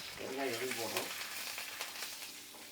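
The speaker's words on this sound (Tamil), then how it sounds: "இப்போ பெருங்காயத்தை போட்டுக்கணும் எண்ணெயில் இந்த அளவுக்கு பெருங்காயம் போட்டுக்கோங்க" Asafoetida sizzles and fries in hot oil while tamarind rice is being made, giving a soft, steady crackle close by with a brief voice near the start.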